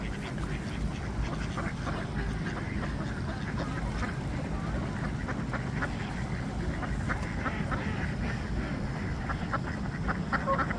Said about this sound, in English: with the birds, the ducks.